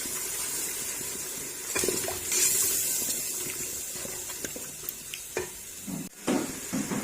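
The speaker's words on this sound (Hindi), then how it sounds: "अब अच्छे से भून लेंगे।" Masala with salt and yogurt fries in a pan for maash dal, producing a soft continuous sizzle and hiss with occasional scraping stirs and light clinks, fairly quiet and steady throughout.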